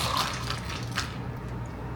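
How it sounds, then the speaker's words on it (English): Black tea is poured into a bubble tea cup holding milk, ice and tapioca pearls, giving a short soft splash and trickle of liquid that fades out over about two seconds. "Then fill up with the black tea."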